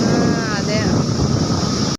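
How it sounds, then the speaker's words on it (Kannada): Strong wind blows during rain at a hostel, a continuous loud roar buffeting the microphone with a faint voice underneath, then it cuts off abruptly at the end. "ನೀವು ನೋಡ್ತಿರ್ಬೋದು ಯಾವ ಥರ ಗಾಳಿ ಬರ್ತೈತಿ ಇಲ್ಲಿ ಅಂತ"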